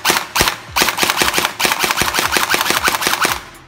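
An RX AKS 47 toy blaster fires in a long, rapid burst of sharp, evenly spaced snapping shots, loud and close, with a brief pause early before the string continues steadily to the end.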